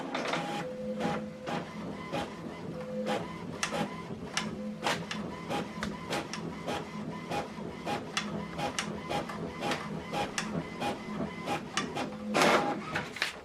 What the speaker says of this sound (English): Printing double-sided.